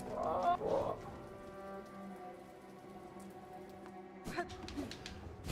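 Birds in the Silksong video game clucking, a couple of close chicken-like cluck bursts at the start and again near the end over a steady droning game soundtrack.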